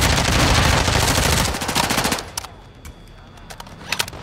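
Rapid automatic gunfire in a video game shootout, loud bursts at first that thin out into scattered, fainter shots toward the end.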